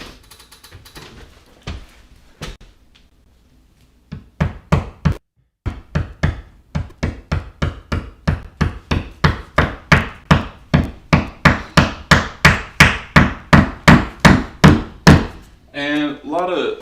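A hammer drives a plastic wall anchor into place, starting with a few soft taps and then settling into a long, steady run of sharp, evenly spaced knocks that grow slightly stronger, close and loud.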